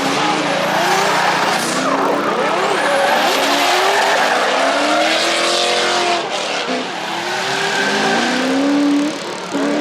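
Drift cars at a competitive drift event, with loud, continuous tire squeal and skidding throughout, engines roaring and revving near and far as the cars slide through their runs.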